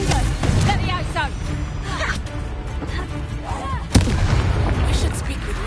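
A Confringo fire spell blasts in Hogwarts Legacy, with several sharp bursts and whooshes over a fight and a sudden loud impact midway, while voices speak throughout.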